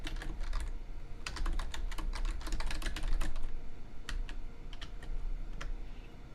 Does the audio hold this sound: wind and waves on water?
no